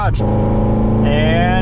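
An 800-horsepower Corvette Z06 is heard from inside the car during an acceleration pull. The loud, close engine drone climbs in pitch as the car picks up speed.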